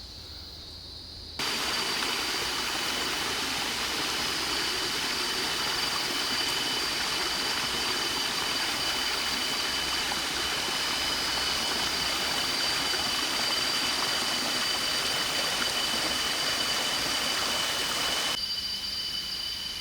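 Steady broadband rush of a water stream beside a Bukit Timah hiking trail in Singapore, a close, continuous flow that starts abruptly and holds at an even level, with no talking.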